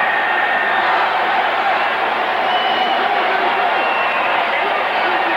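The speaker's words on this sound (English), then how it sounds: "Listen to the people cheering." A football stadium crowd cheers in a steady, continuous roar at a 1999 Rams versus Saints game, heard distant and washed out, with no distinct voices rising above it.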